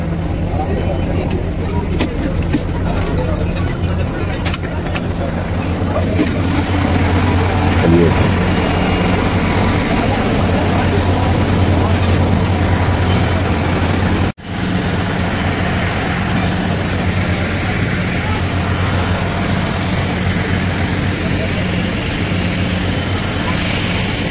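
A steady, loud airliner engine drone at an airport gate, with a constant low hum over the whole stretch and a voice talking over it.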